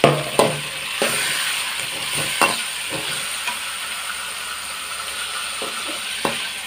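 Onions and tomatoes frying in a pan for a Kannada home-style kesuvina gasi curry, a steady hiss broken by scraping stirs and clicking spoon knocks against the pan.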